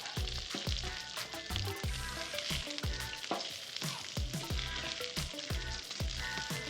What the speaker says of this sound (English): I like to flip it over to the hottest side.